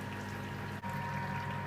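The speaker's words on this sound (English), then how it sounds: "There's some water coming up from the bottom." Water is pumped up into the bottom of a homebrew mash tun, a steady rushing, trickling flow with a constant pump hum underneath and a brief dip midway.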